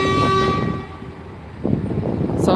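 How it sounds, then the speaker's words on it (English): A loud, long bus horn blast sounds nearby in Gloucester, then cuts off, followed by rumbling traffic noise. "Sounds like somebody landed on that horn"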